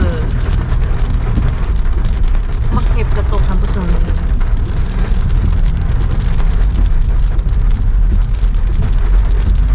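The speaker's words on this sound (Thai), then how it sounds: "บ้านเฮาฝนตกเด้อ" Heavy rain pours steadily onto a house, a dense, loud and continuous hiss of drops with a low rumble underneath that persists for the whole stretch.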